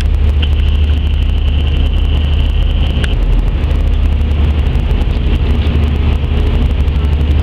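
A ferry engine idling as the boat docks, a loud, steady low drone that holds for the whole stretch, with a brief higher whine partway through.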